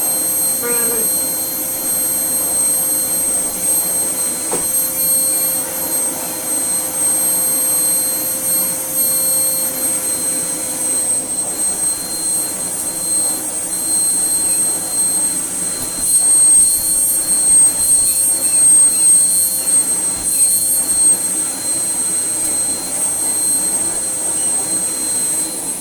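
A Hoover Rapid vacuum cleaner drones steadily and close, a constant whine with a high tone running through it and slight swells in level as the floor head is pushed over the floor and a rug.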